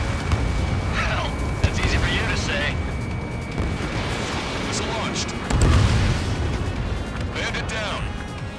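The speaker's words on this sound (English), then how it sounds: "Projectile exploded in the distance." A projectile explodes far off in the air-combat game Ace Combat 7, a broad rumbling boom swelling midway through a dense bed of jet and battle noise, with radio voices chattering over it.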